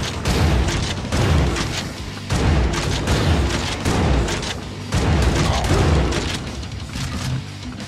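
Loud gunfire rings out in the retro-style shooter game Hellbound, with heavy booming shots in rapid, continuous bursts and brief gaps between volleys.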